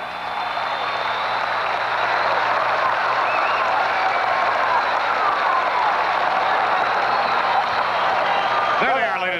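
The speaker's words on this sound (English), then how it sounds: "how about a fine round of applause for a fine basketball team out of Breckenridge, Minnesota?" Sustained crowd applause fills a gym at the 1978 Minnesota State High School Class A basketball championship, honoring the Breckenridge Cowboys runner-up team; dense steady clapping holds for nearly ten seconds before fading at the end.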